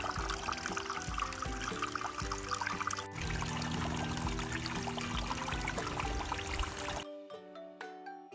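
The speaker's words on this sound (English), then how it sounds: "I will be filtering this water." Water pouring and trickling on a Vermont hiking trail while filtering water, a steady splashing stream for several seconds that cuts off abruptly, leaving faint drips.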